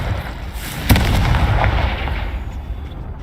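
A Confringo spell blast in the Hogwarts Legacy video game: one sharp burst followed by a rolling, rumbling fiery roar over a steady ambient game background, slowly fading.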